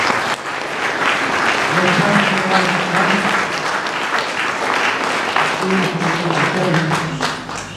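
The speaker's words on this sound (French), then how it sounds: "Donc on peut l'applaudir." A ceremony audience applauds M. Blanchard, a man nearly 92 receiving an honorary diploma, at a May 8 commemoration in Loudun. The clapping is loud and sustained for several seconds, with murmuring voices and a low hum beneath.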